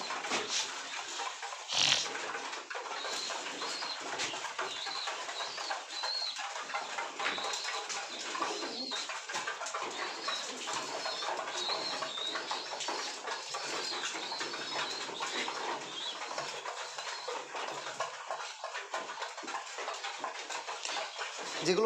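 Steady chorus of pigeons cooing and fluttering, a dense continuous murmur of many birds close by, with no talking.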